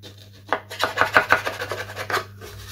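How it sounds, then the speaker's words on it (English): Hand file rasped along the slightly curved edge of a balsa model aircraft part, a series of short scratchy strokes in an uneven rhythm, close and moderately loud with no talking. "Just run a file on this edge, slightly curved."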